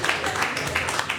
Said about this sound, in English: Give me a round of applause for thinking of that.